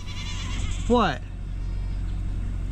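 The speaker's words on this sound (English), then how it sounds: "Look at them old goats out there, man." A goat outside a shop gives a single wavering bleat, loud and close, over a steady engine-like rumble, with someone talking nearby.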